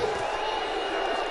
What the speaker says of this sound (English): Crowd chanting for GSP